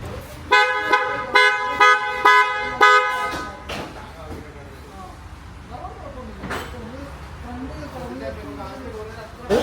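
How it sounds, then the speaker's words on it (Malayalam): A newly installed horn on a base-model Hyundai Creta sounds in six short, loud honks in a quick rhythm, followed by someone speaking nearby. "ഫസ്റ്റ് നമ്മൾ ഇതിൻ്റെ ഹോൺ അപ്ഡേറ്റ് ചെയ്യുന്നുണ്ട്"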